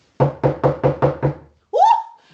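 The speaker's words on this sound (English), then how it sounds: "We knocked again." Six evenly spaced, firm knocks strike a door at number 3, each sharp and close, followed after a short pause by a brief rising voiced sound.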